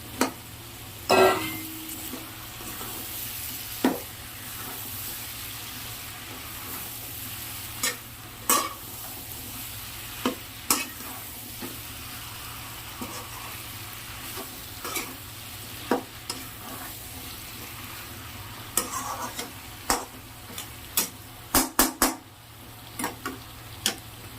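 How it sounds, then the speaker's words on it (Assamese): Pigeon meat and potatoes fry in a pan under a steady low sizzle, with sharp scrapes and clicks from stirring that cluster near the end. "এতিয়া অলপ ভজাৰ পিছতে স্কচ আৰু আলুখিনি দি দিছোঁ।"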